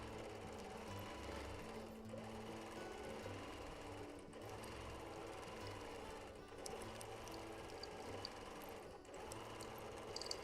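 A sewing machine stitches rapidly and steadily while free-motion quilting feedsack fabric, a fast mechanical chatter with brief dips in speed, fairly faint and with no talking.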